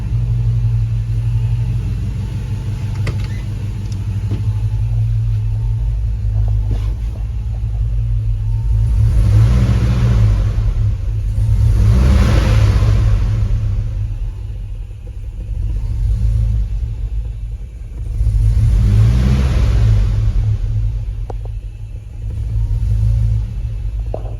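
A Grand Wagoneer with a swapped-in Hemi V8 runs close by, its engine holding a deep, steady rumble that swells and eases in a few slow surges as the idle settles lower.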